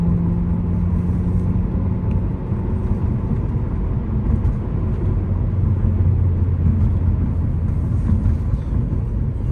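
A 2003 Ford Focus SVT engine pulling out of a turn, a loud steady in-cabin drone and rumble as the car accelerates, with no voices over it.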